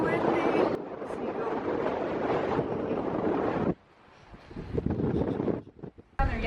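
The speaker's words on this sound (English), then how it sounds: "It's so windy." Strong wind at the Jersey Shore buffets the microphone in gusty, rumbling bursts that drop away briefly, then surge back.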